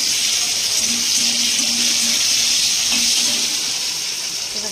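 Chopped tomatoes hit a pan of frying potatoes and onions, raising a steady, loud sizzling hiss that holds evenly throughout with no talking.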